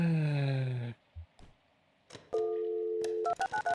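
Telephone keypad tones from the Kentucky Route Zero video game: a short burst, then a sustained two-tone beep held for about a second, followed by several quick dialing beeps, clear and alone.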